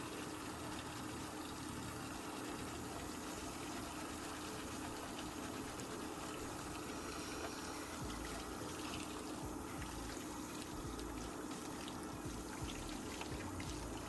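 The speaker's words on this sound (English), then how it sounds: "Remember to rinse it really, really well." Running tap water rinses a Rolex watch after ultrasonic cleaning, a steady, close, continuous splashing hiss that holds even for the whole stretch with no talking.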